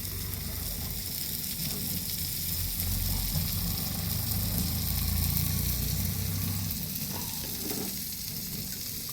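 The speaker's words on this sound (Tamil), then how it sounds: "மூணு மீன் தான் வறுக்கிறேன்" Three fish sizzle steadily in hot oil in a pan, a continuous close frying hiss that holds evenly throughout with a low background hum and no talking.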